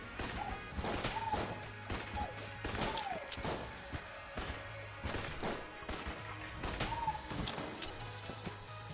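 Repeated Winchester rifle shots in the video game Enter the Gungeon, sharp gunfire cracks and impact smashes scattered across several seconds amid busy game effects, fairly quiet overall with little talk.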